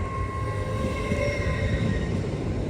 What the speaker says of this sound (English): now departing is 800-107 with the 1151 LNER service to Edinburgh